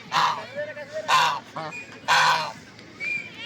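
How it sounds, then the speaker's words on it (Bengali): Domestic geese in a village honk loudly in three strong harsh bursts with quieter calls in between, close by, with faint background voices. "রাজহাঁস অবশ্য অপরিচিত মানুষ দেখলে ডাকাডাকি শুরু করে"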